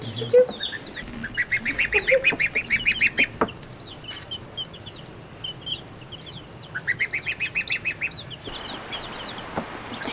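Bursts of rapid, high-pitched peeping calls from a gosling, close by, in short trilling runs separated by pauses.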